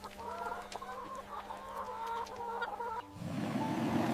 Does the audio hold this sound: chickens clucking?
yes